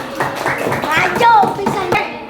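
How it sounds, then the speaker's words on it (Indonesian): Students in a mathematics classroom clap for a presenting group: a handful of irregular claps mixed with overlapping young voices and chatter, fairly loud and close. "tepuk tangan dulu untuk kelompok 5"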